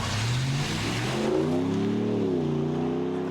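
A 2017 Ram 1500 Night Edition Crew Cab pickup with a Mopar add-on exhaust revs up loudly and close by, the deep engine note rising in pitch and then holding steady, with no talking.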